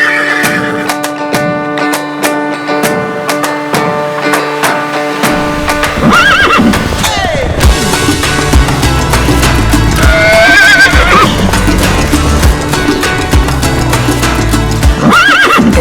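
A horse at a riding lesson whinnies loudly with a long, wavering neigh, and another neigh follows a few seconds later over steady clip-clopping hooves and busy ambient noise.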